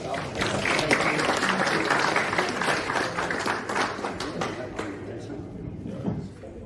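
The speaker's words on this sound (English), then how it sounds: "give him a round of applause" An audience applauds a guest at a seminar on listing products on Amazon: dense, steady clapping with voices mixed in, thinning out toward the end.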